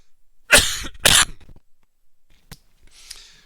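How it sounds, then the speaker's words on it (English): Two loud, harsh coughs close to the mic, followed by a brief click and a faint breathy rustle before quiet. "I'm just going to turn my mic off for a second because I have to cough"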